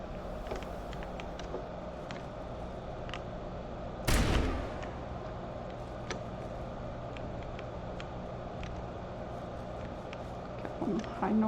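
Explosive-round gunfire in the Mass Effect video game, a single loud burst near the middle of a steady game soundscape with faint scattered clicks and impacts, and a voice talking over it.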